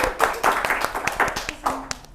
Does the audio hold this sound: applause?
yes